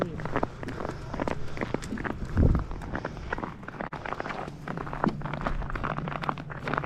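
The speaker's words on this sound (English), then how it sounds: "That crack's making a lot of noise." Boots crunch steadily and close across the frozen surface of Pachaug Pond in Griswold, Connecticut, with one deep booming crack of the ice partway through; a person talks over the footsteps.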